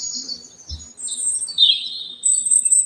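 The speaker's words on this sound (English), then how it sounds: "we got birds out there" Birds chirp outdoors, high bright tweets and short trills that come in bursts over a quiet background, with one low thump near the start.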